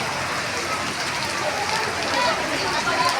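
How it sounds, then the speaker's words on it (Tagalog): Steady heavy rain pours down outdoors as flooding begins, a dense continuous hiss of drops on surfaces that stays loud and even throughout. "Ewan ko kung anong oras to hinto yung ulan na to."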